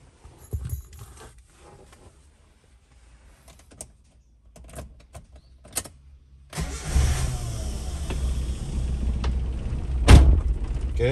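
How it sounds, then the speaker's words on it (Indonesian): A Suzuki Escudo engine starts after a few quiet clicks and fumbling sounds, cranking and catching into a steady idle that holds close and loud. "sekarang kita coba hidupin mesin"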